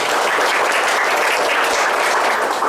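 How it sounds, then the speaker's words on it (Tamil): Audience at an exam prize event in a coaching institute applauding, dense and loud continuous clapping from many hands, with no speech over it. "இது பெருமை பெருமையாக இல்லையா கைத்தட்டுங்க"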